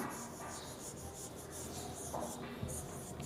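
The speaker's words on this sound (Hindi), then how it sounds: "मैं यहां लिखता हूं इसको" Chalk or marker writing on a board during a maths lesson, faint scratchy strokes and taps in short bursts against a quiet room hiss.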